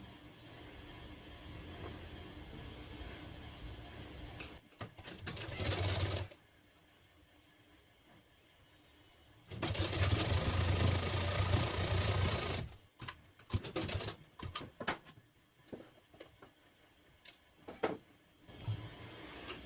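A sewing machine stitches the hem of a Bombay-cut blouse in two separate loud bursts, about 1.5 and 3 seconds long, each running at a steady, fast mechanical rhythm. Quiet handling noise fills the gaps between the bursts.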